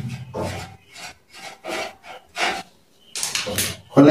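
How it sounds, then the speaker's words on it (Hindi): Short scraping and rasping strokes from a screwdriver working loose a part on a sewing machine treadle, several separate bursts close up, with a louder scrape at the end and no talking. "इसको हम खोल देते हैं, इसको पेचकस से"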